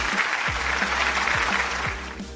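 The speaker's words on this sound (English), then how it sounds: "A round of applause, please." An audience claps steadily and fairly close to welcome a guest onto a show, a dense wash of applause over a low recurring hum, easing slightly at the end.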